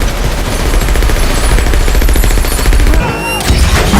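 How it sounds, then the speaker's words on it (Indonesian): Rapid gunfire from several shooters aimed at an elevator rigged with a bomb in an action film, loud dense bursts followed by a sharp blast and ringing tail. "mereka semua mencoba menembak Clay secara bersamaan. Namun lift tersebut ternyata telah Clay pasangi bom."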